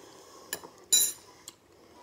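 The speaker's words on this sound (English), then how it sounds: "Go ahead and stir this." A metal spoon stirring a chia seed drink in a glass, giving three light clinks, with the middle one the loudest and longest, close and alone.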